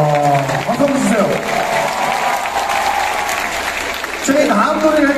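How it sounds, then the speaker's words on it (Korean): A concert crowd at a summer show applauds and cheers loudly in a dense, sustained wash while a guest performer talks and sings briefly over it at the start and end. "박수 주세요"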